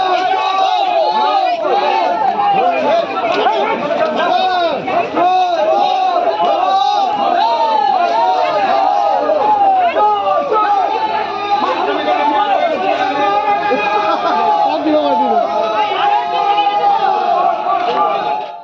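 A large crowd of BJP supporters chants and shouts slogans outside a police station, loud and sustained with overlapping voices throughout.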